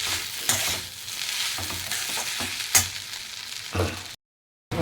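Veg Hakka noodles stirred with soy sauce in a hot pan, the stirring scrapes coming in irregular strokes over a steady sizzle, close and fairly quiet, with a brief silence near the end.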